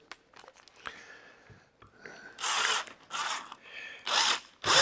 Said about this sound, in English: And then drill all the way through. I'm drilling down about 1 inch.